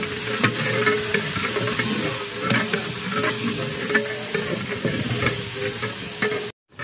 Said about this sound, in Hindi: ये गोश्त को भून गया